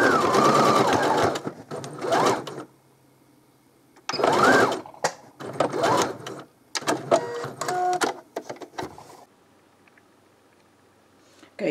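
A sewing machine stitches a chenille snowman in several loud whirring bursts separated by pauses, with brief handling noises between runs.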